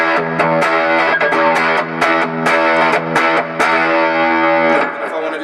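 Electric guitar through the rhythm channel of a Bogner Ecstasy amp with distortion: a loud run of chugging, palm-muted chords and short stabs in a steady rhythm, ending on a held, fading chord.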